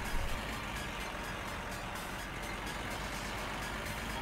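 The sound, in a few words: car engine running without exhaust in video game My Summer Car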